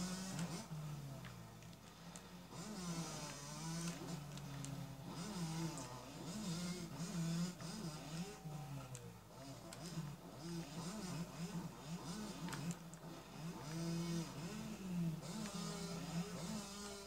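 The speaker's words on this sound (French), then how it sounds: "il va y avoir une moto qui va me dépasser. Voilà, c'est une 250" A 250 motocross motorcycle in the MX vs ATV Alive video game races past, its buzzing engine whine rising and falling in pitch with throttle changes, continuous and fairly close throughout.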